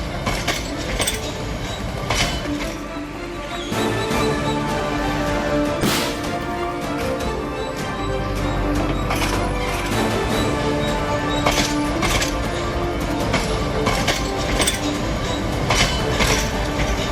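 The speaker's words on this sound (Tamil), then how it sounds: "மேட்டுப்பாளையத்தில் இருந்து உதகைக்கு ரயில் இயக்கம்." The Ooty mountain railway train runs from Mettupalayam toward Udhagamandalam, loud and close, with continuous rumbling, clanking and metallic clinks from the carriages and a few squeals along the track.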